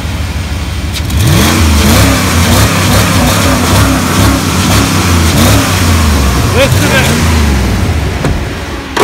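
Quad ATV engine revving hard up close, with repeated rising and falling throttle sweeps over a loud, rough idle, while people talk nearby.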